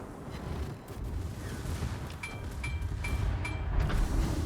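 Naval gunfire in a warship video game, shells striking an enemy ship's bow armor: a rumbling low roar with several sharp metallic impacts ringing out in quick succession.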